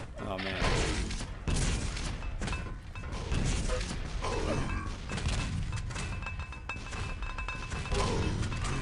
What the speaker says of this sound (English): Pitch is trying to dodge the nades